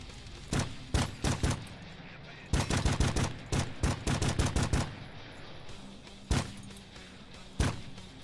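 AK rifle gunfire inside the Operator video game: several rapid bursts of sharp cracks, a dense volley in the middle, then two isolated single shots after a pause, loud and close over a faint background hum.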